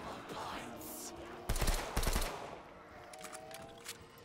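An LMG machine gun in Black Ops 3 Zombies firing in short loud bursts, with two sharp volleys close together and quieter scattered shots and game noise before and after.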